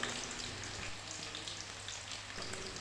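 Garlic fried in oil for mango pickle sizzles with a steady, soft crackling hiss, a continuous fine spatter held close and fairly quiet throughout, with no voices.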